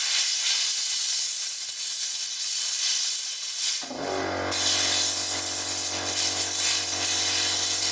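Compressed air blows residue off the air filter cage of a Yamaha Virago 250, a loud continuous close hiss, then a steady low compressor-like hum joins partway through.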